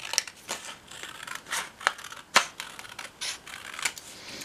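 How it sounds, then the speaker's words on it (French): Scissors snip notches into paper Christmas tree branches, giving a quick series of crisp, close cutting clicks and small paper rustles in an irregular rhythm. "pour pas faire des arrondis avec les ciseaux, je fais juste les entailles"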